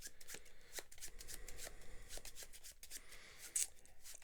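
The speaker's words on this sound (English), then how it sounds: "And then these are going to get shuffled." A deck of cards is shuffled by hand during a tabletop board game, making a steady run of crisp riffling and rubbing clicks, close and fairly quiet, with no talking.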